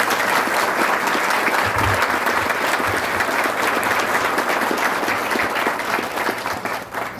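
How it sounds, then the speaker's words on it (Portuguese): A crowd at the reinauguration ceremony for the Angelo Toniolo dam in Artur Nogueira claps in loud, sustained applause that fills the whole stretch before tapering slightly at the end, with a few brief low thumps. "uma salva de palmas para eles"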